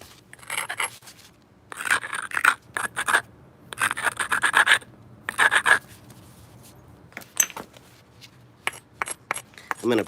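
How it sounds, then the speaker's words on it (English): The edge of a dacite stone being ground down during knapping, heard as a series of gritty rasping scrapes in irregular bursts, close and fairly loud, with brief quiet gaps between strokes. "Let's grind this down and try to split that difference here."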